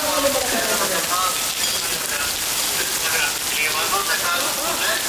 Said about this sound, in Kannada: ಮಳೆ ಕಮ್ಮಿ ಆಗತ್ತಂತೆ